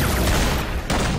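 Gunfire recorded for Batman Arkham City, a dense rumbling burst of rapid distant shots that briefly drops away and then resumes.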